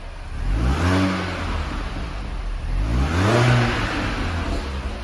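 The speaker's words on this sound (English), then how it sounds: "And you do get a little bit of crackle and pop" A 2007 R52 Mini Cooper S with its supercharged engine revs twice, each rising vroom swelling loud and close, with exhaust crackle between them and no talking.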